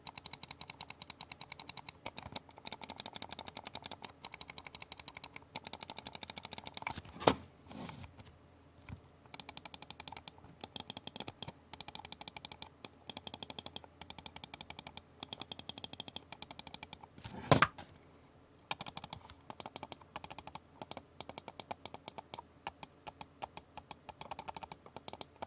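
Attack Shark X1, X3, X6 and X11 computer mice click in turn, close and crisp, in dense runs of rapid taps with short pauses between bursts and no talking.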